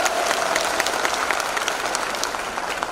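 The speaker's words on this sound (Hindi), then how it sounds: "ताली बजाइए" An audience at an Indian business presentation claps together in steady, dense applause that stays at an even, fairly loud level throughout, with no speech over it.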